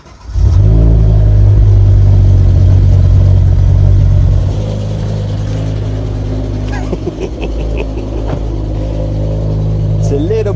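BMW M6 V10 fires up loud and close, bursts into a strong rev, then settles into a slightly rough, throbbing idle with a few blips later on.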